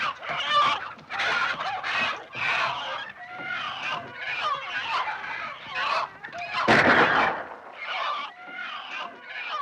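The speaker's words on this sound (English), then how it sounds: "The fox! The fox is in my hen house!" Plymouth Rock hens in a hen house clucking and squawking frantically in dense overlapping bursts, loud and close, with a sharp flurry of cackling midway as a fox raids the flock.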